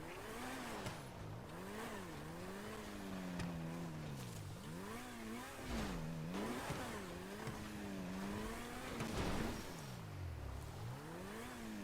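A supercar in GTA 5 climbs Mount Chiliad with its engine repeatedly revving up and dropping through gear changes, a steady, fairly loud rising and falling whine with no talk over it.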